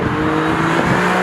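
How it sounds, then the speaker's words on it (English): An Alfa Romeo Stelvio Quadrifoglio 510 hp performance SUV in race mode sends out a loud, steady exhaust roar, close and continuous for a brief moment. "Oh, that exhaust! Can you hear that?"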